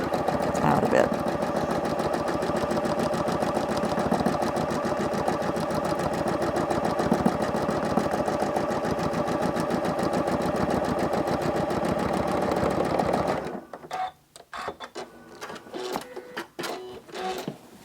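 Sewing machine doing free motion quilting, a rapid continuous needle chatter running steadily for most of the time, then stopping abruptly and giving way to a few scattered clicks and handling sounds.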